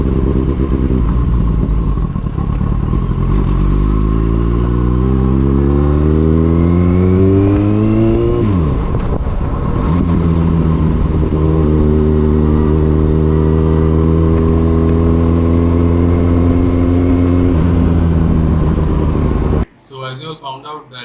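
A motorcycle engine drones loudly and steadily under heavy wind rush, as heard from a helmet chin mount while riding, revving up through gears with a brief dip and shift midway before a sudden cut to clatter at the end.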